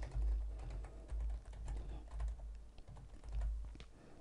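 Keys clatter on a computer keyboard as text is typed into a database query, in quick bursts of close tapping separated by short pauses.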